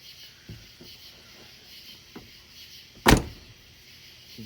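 A single loud, sharp door slam from a 1995 Dodge Caravan minivan lands near the end, preceded by a few faint clicks and handling noises in a quiet setting.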